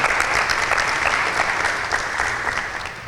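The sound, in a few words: applause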